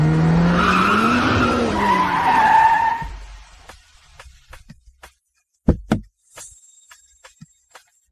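A car skids with a long tire squeal on a road at night, loud for about three seconds, then fading into scattered knocks, a sharp thud and faint clicks.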